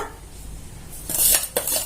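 A spoon scrapes and clinks in a bowl while ground edible gum and dry fruits are mixed together for laddus, starting faint, then a few louder metallic scrapes and knocks near the end.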